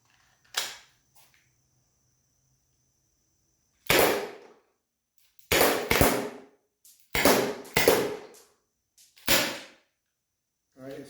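A Byrna SD launcher that is losing power fires about seven sharp, dry pops, each followed by a short decay. The shots are spaced irregularly a second or two apart, with quiet in between.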